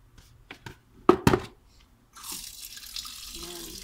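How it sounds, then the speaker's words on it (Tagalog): Water runs steadily from an outdoor faucet, starting after a few sharp knocks and clatters and then hissing continuously to the end at moderate level. "Ayan ang gripo."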